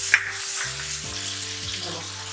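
Onions and garlic fry in a pan for palak paneer, giving a steady close sizzle throughout with a brief metallic clink near the start and no talking.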